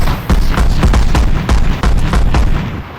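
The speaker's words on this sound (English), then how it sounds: "there are sound effects for impact, so if I shoot the ground near you" Game gunfire in VRChat roleplay combat, a rapid string of loud close shots striking the ground with sharp impact cracks and metallic ricochets, dense and continuous over heavy low rumble.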